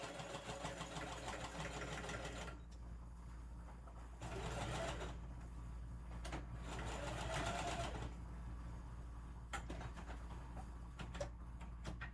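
A home sewing machine runs a zigzag stitch on a Halloween tote bag in several bursts of rapid, even clatter separated by short pauses, quiet and close.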